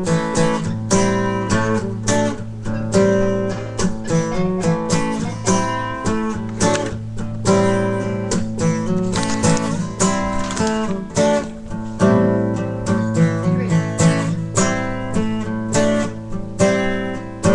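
A riff played on a loud, distorted guitar, a driving rhythmic pattern of repeated chords continuing steadily throughout.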